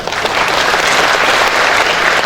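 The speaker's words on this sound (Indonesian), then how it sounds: "boleh tepuk tangan" Seminar audience breaking into loud, close applause, dense and even clapping throughout with no spoken voice on top.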